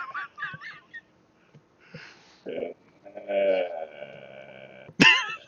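A voice mimics a cough from the crowd during a tabletop role-playing game, giving a few short rough bursts with gaps between them, then one louder hoarse burst near the end.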